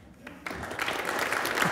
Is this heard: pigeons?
no